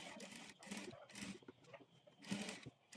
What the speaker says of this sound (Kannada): ಈ ಪೈಪಿಂಗ್ ಪಕ್ಕದಲ್ಲೇ ಟಾಪ್ ಸ್ಟಿಚ್ ಹಾಕ್ಕೊಳ್ಬೇಕು.